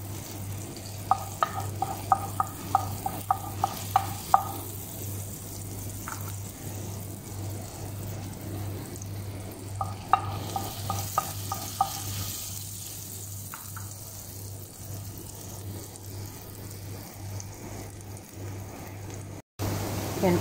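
Shrimp frying with browned garlic in a pan, a steady close sizzle under repeated clicking scrapes of a utensil as it is stirred, with no talk.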